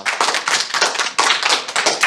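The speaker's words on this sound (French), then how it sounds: "Sur le banc à droite, Lola, Mathis et Léon, on peut les applaudir." An audience claps steadily for a group of young participants introduced at a sports debate, the applause dense and continuous with a brief dip midway.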